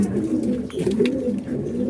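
Pigeons in a loft coo continuously, a close, loud layered burbling with no pauses throughout.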